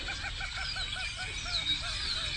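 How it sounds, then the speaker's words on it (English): Many birds call loudly outdoors at sunset at a campsite, repeated short chirping and honking notes overlapping against a steady background hiss. "Birds are really loud right now"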